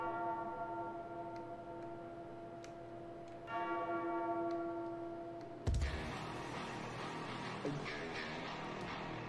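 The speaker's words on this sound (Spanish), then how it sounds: "¿Quieres tocar la campana?" A temple bell in a Pokémon fangame rings out with a sustained metallic tone, then strikes again with a brighter, louder hit, all over steady game background music.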